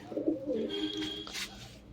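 Pigeons coo in a newly built coop, a low throaty warbling that rises and falls over about two seconds, followed by a brief brighter hiss; close and fairly soft, with no voices.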